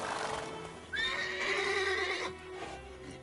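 Roach, a horse from a Witcher video game, gives one clear, close neigh that rises and wavers for about a second amid soft hoof clops and low background noise.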